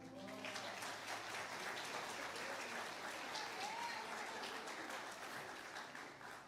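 A church congregation applauds during a sermon, a steady wash of many hands clapping that sounds somewhat distant and fairly quiet, with a faint voice briefly in the background.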